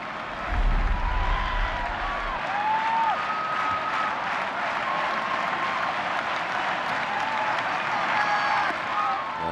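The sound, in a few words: baseball crowd cheering as Ortiz bats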